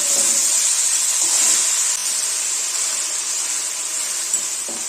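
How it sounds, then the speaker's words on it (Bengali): Spinach being stirred in a wok, a steady loud sizzling hiss throughout with faint scraping and stirring knocks underneath. "পালং শাক কড়াইতে দেওয়া হয়ে গেলে আবার একটু ভালো করে নেড়ে চেড়ে নিতে হবে।"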